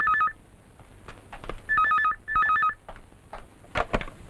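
A telephone ringing indoors: three bursts of warbling electronic tones with short pauses between them, followed by faint clicks and handling noises.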